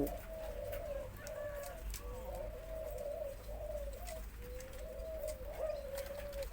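Spotted dove giving repeated rhythmic coos in phrases of three to four notes, clear and moderately close over a low steady background hum, with no talking.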